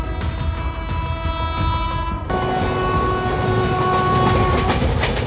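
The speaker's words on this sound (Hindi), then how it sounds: "कर्नाटका एक्सप्रेस को शायद हमने ग्वालियर के आसपास पीछे छोड़ा होगा और अब ये हमको ओवरटेक कर रही है" A Karnataka Express train overtakes alongside on the railway, heard from a moving train as a loud, steady rumble of passing coaches with rhythmic clickety-clack and a sharp shift in tone partway through as the passing train closes in.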